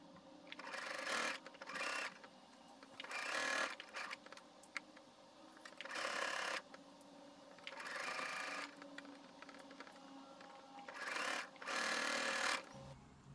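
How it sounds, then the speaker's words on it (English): A sewing machine stitches a folded hem on a wrap dress in short bursts of rapid mechanical whirring, about six runs separated by pauses with quiet handling of fabric. "Okay, so let's have the sewing machine."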